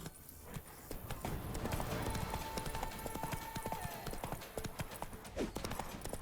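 Geralt's horse Roach gallops in The Witcher video game, rapid rhythmic hoofbeats pounding steadily and close, with a faint tonal game sound partway through.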